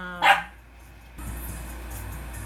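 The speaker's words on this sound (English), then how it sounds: "Dog was barking, had to get him out of the room." A dog gives a single sharp bark indoors, fairly close and loud, and then falls silent over a low steady room hum.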